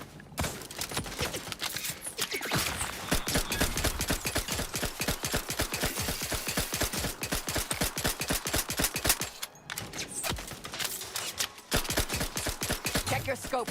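A rapid stream of gunfire from a levelled-up gun in The Outer Worlds 2 rattles on for more than ten seconds, shots coming in fast regular bursts with brief pauses between them, a voice speaking over it.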